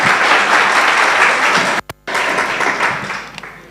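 Loud, dense audience applause at a memorial lecture, a continuous roar of clapping from a large crowd, briefly cut off near the middle before resuming and slowly tapering.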